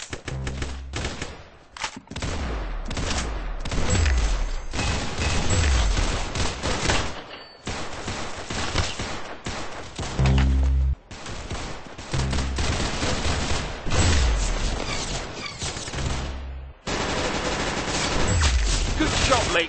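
Gunfire in the Roblox game Arsenal comes as dense, loud volleys of rapid shots, almost continuous across the stretch with a few brief breaks, mixed with game music and effects.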